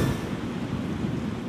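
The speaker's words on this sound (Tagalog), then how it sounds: "mahangin pa rin kung mapapansin nyo, bagamat medyo paambon-ambon na lang" Gusty wind with light drizzle from Typhoon Christine at night in Dagupan, Pangasinan, a steady broadband rush of air and patter that stays fairly loud and even for about a second and a half, with no voices.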